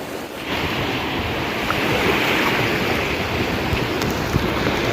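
Sea waves wash continuously with a broad rushing sound, mixed with wind buffeting the microphone, steady and fairly loud throughout.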